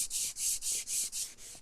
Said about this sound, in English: Once you get it all on there, then come in and just sand.